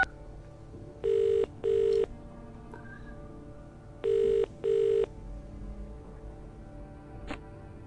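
A telephone in the video game The Dream Machine rings in two pairs of short, evenly spaced ring-back tones, clear and moderately loud over a quiet low hum, with a brief click near the end.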